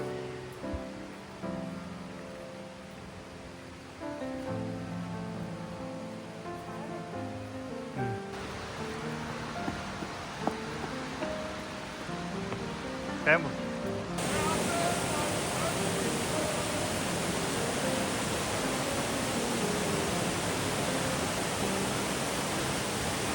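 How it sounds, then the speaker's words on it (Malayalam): On Valentia Island, Ireland, a waterfall and flowing water build into a broad, steady rushing roar that grows louder and denser, with voices heard early on. "കൂടാതെ വെള്ളച്ചാട്ടത്തിൻ്റെ ശബ്ദവും നന്നായിട്ട് കൂടി വരുന്നുണ്ട്"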